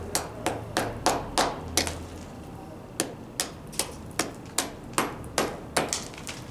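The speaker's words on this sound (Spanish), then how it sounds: "Estos los estoy quitando con un martillo, pegándole al mortero." A hammer strikes old mortar to knock it loose from bricks, about a dozen sharp, close knocks in an uneven rhythm that starts quickly, pauses briefly, then resumes steadily with no talking.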